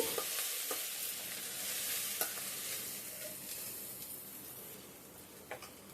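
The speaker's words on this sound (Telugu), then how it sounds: "ఈ మసాలా కూడా ఒక రెండు నిమిషాల పాటు ఫ్రై అవ్వాలి" Masala paste sizzles steadily in hot oil for a stuffed brinjal curry, a continuous close frying hiss with a few soft stirring knocks, no voices.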